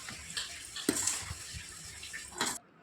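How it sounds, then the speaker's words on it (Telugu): Milk poured little by little into a ghee, sugar and semolina mixture being stirred with a ladle, giving faint, soft liquid trickles with a few light knocks and scrapes spread across the moment. "కొద్దిగా పాలు పోసుకుంటూ"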